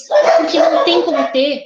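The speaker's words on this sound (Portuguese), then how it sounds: "Desculpa pelo barulho dos cachorros" Dogs bark loudly and repeatedly nearby, in a quick run of yappy barks, while a person keeps talking over them.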